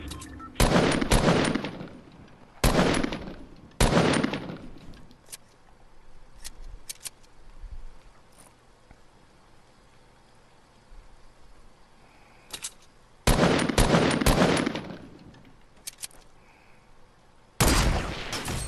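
Bursts of gunfire in the video game Fortnite come in several loud clusters separated by quieter stretches with faint scattered shots, as during a solo match.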